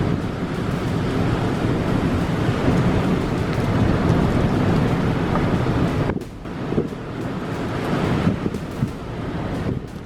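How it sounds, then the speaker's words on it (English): Major storm over Lake Erie in New York, with strong wind buffeting the microphone and heavy waves crashing in a dense, loud roar that briefly dips before surging again. "The major storm over Lake Erie in New York shows how enormous lakes can sometimes create wind and waves as powerful as those found in open oceans"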